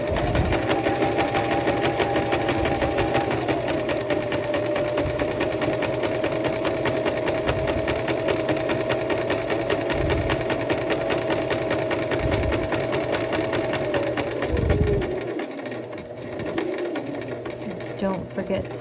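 A sewing machine stitches shirt fabric, its needle running in a fast steady buzz for about fifteen seconds before slowing and stopping, with someone talking over the machine.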